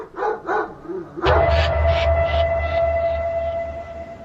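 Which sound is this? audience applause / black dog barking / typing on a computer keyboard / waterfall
black dog barking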